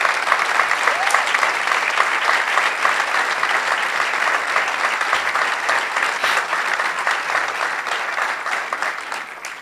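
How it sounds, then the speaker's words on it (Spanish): A local police ceremony audience gives sustained, loud applause for municipal beach patrol officers, with dense steady clapping that fills the room and barely tapers over nearly ten seconds. "Un gran aplauso, por favor"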